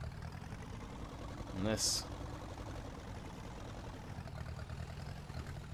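A Ferguson tractor idles in Farming Simulator 19 with a low, even engine rumble throughout, broken by a brief spoken remark.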